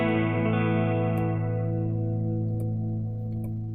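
Electric guitar run through a Zoom G5n with spring reverb and modulation delay, a sustained chord shimmering and slowly decaying with a warbling, chorus-like wash and faint string noise, played alone.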